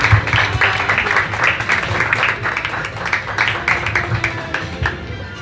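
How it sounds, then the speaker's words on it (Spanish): Applause from the audience at a municipal art exhibition in Tejupilco, Mexico, a steady dense clapping lasting throughout, fairly loud, with some crowd noise mixed in. "Démosle un fuerte aplauso."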